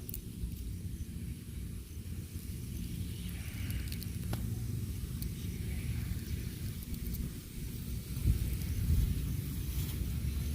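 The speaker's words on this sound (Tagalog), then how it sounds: "Ang lakas ng hangin guys." Steady, rough wind roaring and buffeting against the microphone throughout, with a low rumbling wash and a slightly stronger gust near the end.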